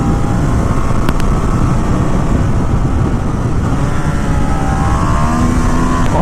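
A 2017 Ducati Monster 1200 R is held in second gear through a corner, its engine droning loud and steady with a rising whine near the end, close to the rider over heavy wind rush.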